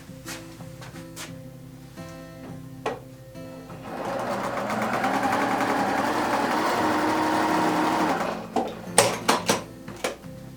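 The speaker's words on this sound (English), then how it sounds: "I like to line up my top edge here, and then sew all the way down." A sewing machine stitches half-square triangle quilt pieces, running in one steady, rapid mechanical whir for about four seconds. Clicks and handling taps from the fabric come before and after the run.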